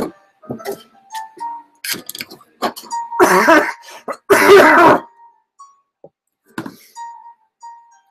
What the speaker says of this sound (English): Pay no mind to my cough again